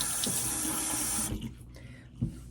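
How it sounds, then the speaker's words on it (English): A tap runs strongly into a sink for hand washing, close and steady, then cuts off abruptly partway through, leaving a few small splashes and handling sounds. "I'm gonna wash my hands real quick."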